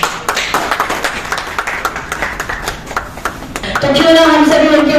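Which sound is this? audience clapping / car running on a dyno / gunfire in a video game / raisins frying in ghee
audience clapping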